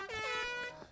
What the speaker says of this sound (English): And inside the envelope is an air horn.